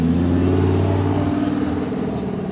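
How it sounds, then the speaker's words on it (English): A Lamborghini Huracan LP 580-2, the rear-wheel-drive version, rolls up at a Cars & Coffee meet in Central Florida, its engine a loud, close, rumbling drone that idles and hums steadily. "We've got a 582 Lamborghini Huracan pulling up now."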